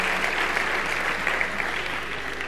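An audience at an opening conference lecture applauds in a dense, steady burst of clapping that stays uniform throughout the short stretch, with no voices on top.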